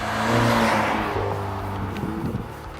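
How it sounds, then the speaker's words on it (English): A Ford Mustang EcoBoost with a 2.3-litre turbocharged four-cylinder engine revs hard and loud up close. The engine note then eases and fades slightly as the car pulls away, with faint pops near the end. "The engine sounds a lot different than a V8. It kind of gurgles and pops"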